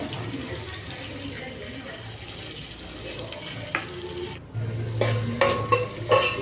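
Bottle gourd palya cooking in oil in a pan gives a steady broadband sizzle, with stirring clatter and a louder burst of frying near the end; no talk over it.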